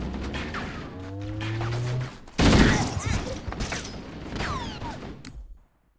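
Gunfire in Halo: Combat Evolved, a burst of loud rapid shots and explosive cracks amid whirring in-game mechanisms and bleeps, with faint voices in the mix before an abrupt cut to silence.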